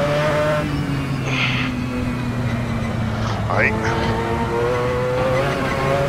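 A car lapping the Nordschleife in Assetto Corsa, its engine a steady droning whine that rises and falls through gear changes, with a brief tire squeal midway and a short spoken word over the noise.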